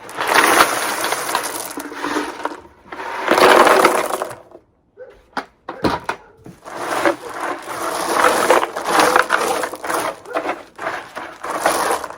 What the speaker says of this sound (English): So now what I'm going to do is I'm going to add some rocks.